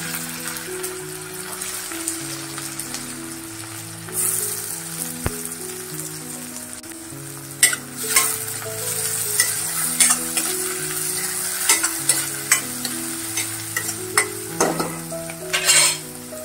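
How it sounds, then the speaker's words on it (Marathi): Garlic and finely chopped onion fry in hot oil with mustard seeds, a steady close sizzle broken by scraping stirs and metal utensil clinks against the pan, with a tonal melody playing in the background. "त्यानंतर लसूण, त्यानंतर कांदा घालते।"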